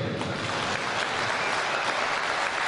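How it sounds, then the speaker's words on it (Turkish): An audience applauds a zeybek folk dancer at a Turkish gathering, the clapping dense, steady and sustained throughout with no talk over it. "Bir alkışlayalım Mustafa'yı."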